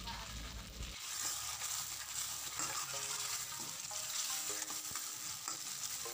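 Bubbling, sizzling sambal sauce for Indian-style sambal ikan kerisi (threadfin bream) cooks in a pan, with stirring scrapes and clinks over a constant hiss; close and fairly quiet.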